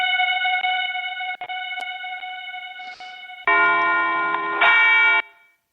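Several bells ring in clear, sustained tones, a first steady chime followed by a louder, brighter cluster of overlapping bell tones near the end, with no talk over them.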